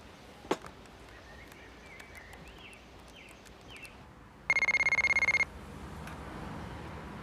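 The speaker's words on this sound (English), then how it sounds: "Get Colin on the phone." A telephone rings once in a short, loud electronic burst of about a second in an otherwise quiet room, with faint background sounds before and after.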